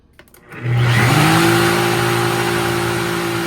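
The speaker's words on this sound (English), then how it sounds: "the blender did what I needed it to do" A kitchen blender blends cottage cheese for protein pasta meal prep, spinning up quickly from a brief startup into a loud, steady whirring roar that holds without any talk.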